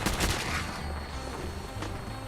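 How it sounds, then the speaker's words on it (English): Fallout 4 gunshots crackle loud and close in rapid, steady succession, a brief continuous barrage. "Wait, who else is shooting?"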